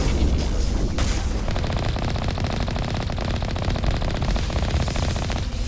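Rapid automatic gunfire from weapons in the video game Mass Effect Legendary Edition, a dense, loud, continuous rattle of shots sustained for several seconds with a few sharper bursts.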